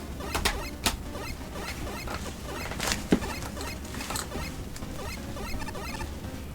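Rain effect in a video game played over a streaming connection: dense, crackly patter with scattered sharp ticks and squeaks, steady and fairly faint throughout without any voices.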